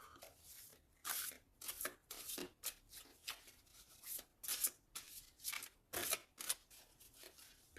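Tarot cards shuffled by hand for a reading, a run of crisp riffling bursts and soft flicks repeating every half second or so, close and clear with no talk over it.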